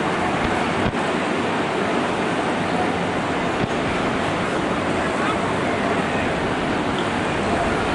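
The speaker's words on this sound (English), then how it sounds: "they're not as violent right now, the waves, as they have been in the last few days." Ocean surf at a beach in Mazatlan, Mexico, a steady roaring wash of waves with wind buffeting the microphone, loud and unbroken across the whole stretch.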